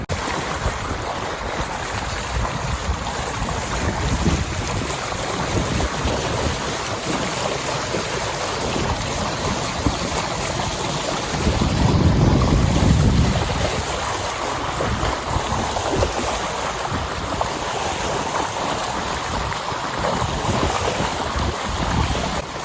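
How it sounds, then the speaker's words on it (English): A sailboat motors along under its engine on a calm sunny day off the coast of Greece, a continuous low engine drone mixed with wind buffeting and the wash of sea, steady throughout with a brief louder surge midway. "Not a lot of wind today, so we're under engine"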